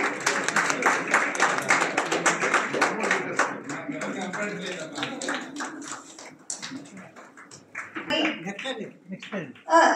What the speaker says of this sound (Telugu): మనం చప్పట్లు కొడుతూనే ఉండొచ్చు వాళ్ళు తీసుకుంటుంటే.